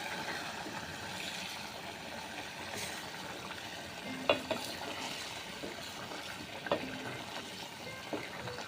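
Egg curry simmers quietly in a pan while it is stirred, a soft bubbling hiss broken by a few sharp clinks of a utensil against the pan.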